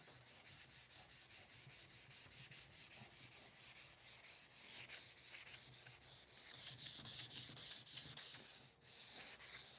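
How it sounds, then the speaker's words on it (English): Steady rhythmic hand sanding, sandpaper rubbing back and forth across wood in quick even strokes, close and continuous with no talking. "Can you guys hear the sandpaper?"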